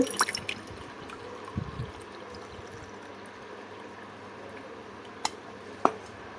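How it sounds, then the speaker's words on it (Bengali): Water trickles softly and steadily into a glass for a few seconds, followed by a couple of sharp clinks. "আমি এই গ্লাসের ভেতরে পানি ঢেলে দিচ্ছি"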